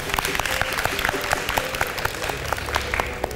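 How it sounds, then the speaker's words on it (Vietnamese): Studio audience applauding on a Vietnamese dating show, steady clapping from many hands filling the room at moderate volume with no voices over it. "chúng ta vẫn phải vỗ tay cho sự thẳng thắn của bạn ấy"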